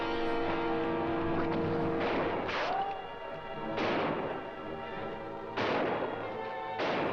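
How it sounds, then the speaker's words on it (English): Gunshots crack out in a 1955 Western gunfight from Rage at Dawn, arriving as separate loud blasts spaced a second or two apart over a continuous film soundtrack, with no talking. "This gunfight goes on for 2 hours."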